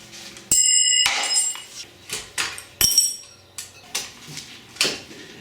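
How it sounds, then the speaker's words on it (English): Brake cables come off a Honda Trail 90 motorcycle, a close series of metallic clinks, taps and rattles at irregular intervals, with a couple of sharp ringing strikes. "I'm taking off these brake cables."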